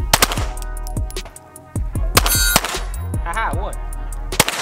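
Glock pistol fired one-handed at a range, with a rapid string of sharp, loud shots and ringing metallic clangs from steel targets, and a voice briefly reacting amid the firing.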